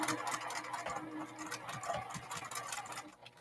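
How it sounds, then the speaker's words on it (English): Sewing machine stitching a quilt block seam, a quiet rapid mechanical patter of needle strokes running steadily at close range. "I sewed my seam crossway on the angle."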